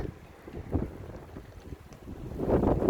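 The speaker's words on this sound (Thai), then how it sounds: "นี่คือเสียงลมนะคะ" Strong wind drives snow through an Iceland snowstorm, buffeting the microphone in gusty, rumbling waves that swell louder toward the end.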